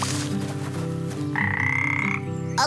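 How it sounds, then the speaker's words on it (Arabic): A cartoon glass frog croaks loudly in a rhythmic, buzzing series, with a sustained tonal note and some music beneath it. "الضفدعة الحكيمة تقف هناك. الضفدعة الحكيمة شفافة كالزجاج"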